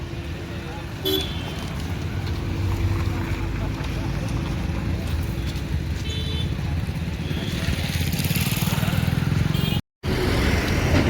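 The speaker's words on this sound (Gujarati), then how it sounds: "અને આ રહ્યો આપણું ટ્રેક્ટર" A steady engine rumble, like a tractor idling nearby, runs throughout the clip with voices faintly under it.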